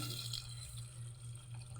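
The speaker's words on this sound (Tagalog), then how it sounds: "lagyan natin na ng tubig" Water is poured into a cooking pot of simmering stew, a quiet steady trickle and splash heard faintly over a low constant hum.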